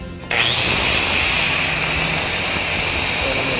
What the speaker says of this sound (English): And I'm going to take my grinder here.